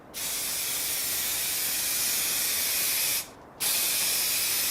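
Spray paint hisses steadily onto a car spoiler for a Mk4 Golf GTI, loud and close, with one short pause before the spray resumes.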